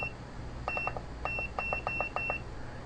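An Arduino buzzer beeps when the middle button is pressed, giving a few quick clusters of short, high electronic bleeps over a steady background hum.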